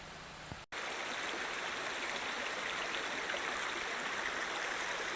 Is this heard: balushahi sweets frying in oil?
no